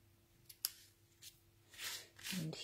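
Scissors snip through paper during a card-making craft, trimming an end: a couple of sharp, brief cuts followed by louder rustling of the paper, close and fairly quiet with no talking.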